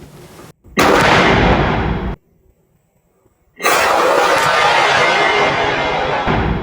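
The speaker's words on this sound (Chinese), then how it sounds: "赶紧补枪" Loud gunfire while hunting wild boar in Florida: two long, dense, explosive bursts roaring close by, split by a short quiet gap, with the blast and its echo filling the clip.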